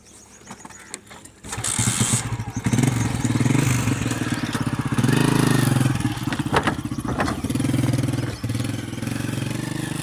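A motorcycle engine starts and idles loudly and steadily close by in Cholistan, Pakistan, with a few revs along the way.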